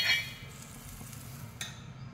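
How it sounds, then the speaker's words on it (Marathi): Butter sizzling on a hot tava for paratha, a soft steady hiss close by with a light metallic scrape near the start. "तव्याला थोडंसं बटर लावून घेऊ।"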